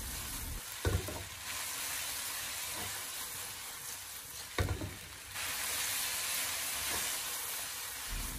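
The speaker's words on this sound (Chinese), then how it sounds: "然后开大火，给它快速的翻炒几下" Blanched vegetarian ingredients for luohan zhai (Buddha's delight) stir-fried fast over high heat in a wok give a loud, continuous sizzle. Two distinct clanks of a utensil against the wok punctuate it, and no one speaks.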